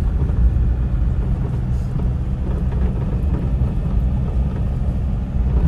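A car climbing a mountain road toward Mount Barrow, a steady low engine and road rumble filling the cabin with no break.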